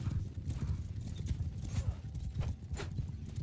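Horses gallop in Mount & Blade II: Bannerlord, a steady rapid clip-clop of hooves with occasional sharp impacts, moderately close and continuous, with no talk over it.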